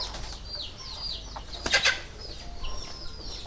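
A Lakka fantail pigeon flaps its wings in short bursts, taking off and flying up onto a house roof, with other birds faintly calling around it outdoors.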